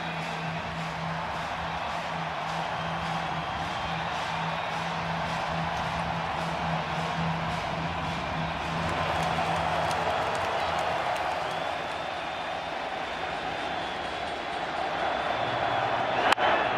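A packed baseball stadium crowd roars during ALCS Game 5 between the Toronto Blue Jays and Seattle Mariners, a broad sustained wash of cheering that swells slightly near the end, with a broadcaster talking over it.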